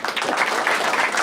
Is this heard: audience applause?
yes